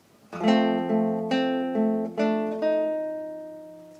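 Acoustic guitar plays a bar of Beethoven's "Für Elise", a handful of plucked notes with open strings ringing, each attack decaying slowly, clear and alone.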